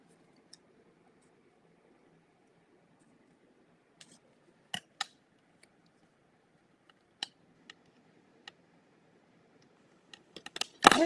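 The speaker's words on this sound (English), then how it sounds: "I always get my fingers stuck in those scissors." Scissors make a handful of sharp, sparse snips while trimming a fun fold greeting card. The cuts sound close and quiet against near silence, then come in a quicker cluster at the very end.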